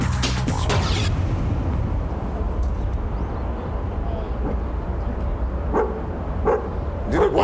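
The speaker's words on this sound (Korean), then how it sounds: "어리둥절해진 개는 주인을 부르는 듯 일단 짖습니다" A dog barks in a room while a group of people in lab coats stand around it. A low, steady rumble runs underneath, with a few short, sharp barks near the start and more toward the end.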